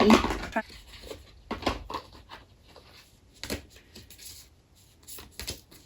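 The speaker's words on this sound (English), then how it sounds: "you have to bear with me as I'm shuffling and cutting the cards" Shuffling and cutting a Lover's Oracle card deck produces irregular bursts of papery flicks and soft slaps, close and moderately loud, with brief pauses between riffles and no talk.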